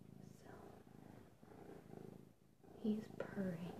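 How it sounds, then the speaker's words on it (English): A pet cat purring close to the microphone, a soft low continuous rumble lying under a woman's quiet, whispered talk. "he's purring"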